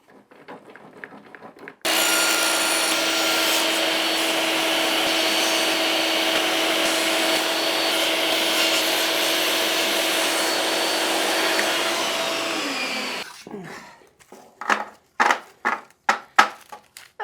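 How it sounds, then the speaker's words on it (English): Saw ripping scrap wood into thin strips, a loud sustained motor whine with a rough cutting buzz for about eleven seconds that winds down, followed by a series of sharp knocks and clatters of the cut pieces. "If I rip these into 1 centimeter strips, so let's say 8 millimeter strips, these could become my splines."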